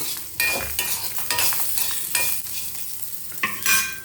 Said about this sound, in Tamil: கொஞ்சம் தேங்காய் வதங்கட்டும்.